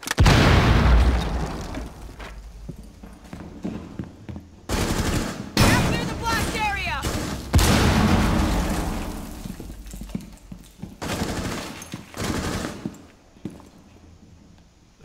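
Bursts of automatic gunfire and booming explosions from Rainbow Six Siege during a House team deathmatch, loud and close, with several sharp volleys separated by brief lulls and players talking over parts of it.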